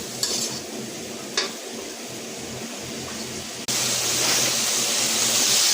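Turmeric, chili powder and salt being sautéed in a pan for a bottle gourd and shrimp dish: a soft sizzle with a few sharp utensil clanks, then a sudden louder burst of frying hiss near the end.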